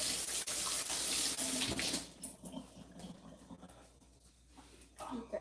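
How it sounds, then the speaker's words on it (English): Water running from a tap while hands are washed, splashing and rubbing up close for about two seconds before the flow cuts off, followed by quieter handling sounds and faint talk. "Probably wash my hands."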